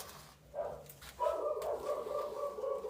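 A dog barks and howls in drawn-out, wavering yelps indoors, two long vocal calls close and fairly loud with no talk over them.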